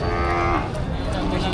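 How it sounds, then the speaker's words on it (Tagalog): A water buffalo (carabao) lets out a loud, close, drawn-out moo at a livestock market where cattle, goats and buffalo are sold, heard over a dense, noisy market background. "Ganito kalaking kalabaw."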